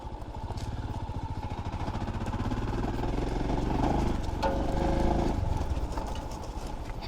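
A Royal Enfield Scram 440 motorcycle ridden off-road gives a steady, close engine rumble with a throbbing beat, swelling slightly in the middle before easing back.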